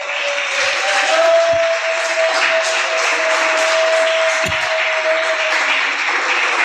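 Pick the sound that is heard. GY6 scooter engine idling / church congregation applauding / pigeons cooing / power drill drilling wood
church congregation applauding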